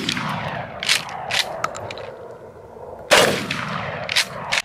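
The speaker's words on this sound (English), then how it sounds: "let's try some shotgun shells against this and see what happens" A shotgun fires target load shells at a piece of homemade armor, two sharp loud blasts about three seconds apart, each ringing briefly before fading, with no one talking.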